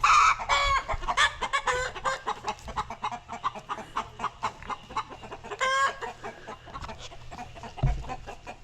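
Hens cluck and squawk in a lively, rapid run of calls, close and fairly loud, with a rooster's crow and occasional thumps mixed in.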